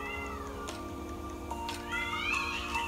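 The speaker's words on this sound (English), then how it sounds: "If you guys just heard a cat" A cat meows indoors, a few rising and falling cries that sit fairly faint under a steady low background hum.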